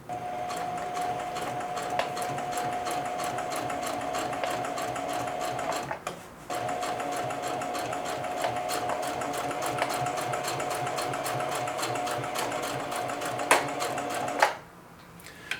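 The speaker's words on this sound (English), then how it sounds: "So I'll do a straight stitch, and then I'll do a zigzag stitch as well." A sewing machine stitches through denim, running a steady rapid needle chatter in long continuous bursts with a brief pause partway through, close and loud with no talk.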